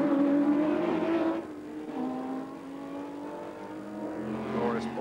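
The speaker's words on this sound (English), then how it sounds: "Glorious Porsche flat 12 engine, of course." A Porsche 917 racing car with a flat-12 engine roars past at a historic Grand Prix race at Montlhéry, its loud engine note dropping in pitch as it goes by, followed by another engine rising faintly toward the end.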